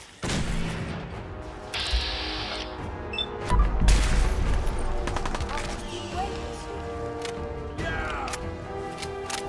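Gunfire in Fallout 4 erupts in bursts of sharp shots with mechanical clatter, fairly loud over a game soundscape with background music, with a heavy blast near the middle.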